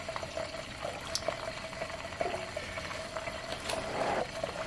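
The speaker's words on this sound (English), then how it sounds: "And the bubbles, do you hear how they sound?" Ghee cooks in a pot, bubbling and sizzling softly in a steady, faint crackle with a few louder pops, with no talking.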